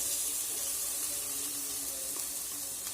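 Tomato and onion frying in a pan, a steady close sizzle and hiss running unbroken the whole time, with a faint stir or two and no voices.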